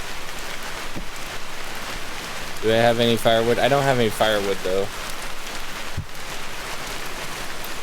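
Steady rain falls in the dark in the game Vintage Story, a constant hiss throughout with someone talking over it in the middle.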